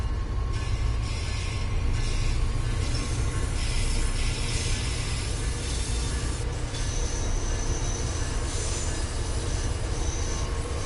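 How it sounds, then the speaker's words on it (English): Simulated train in the Train Sim 5 video game rolls along rails with steady rumble, clattering wheels and intermittent high squeal, continuous and fairly loud with no talk. "Oh no, I hope this train stops."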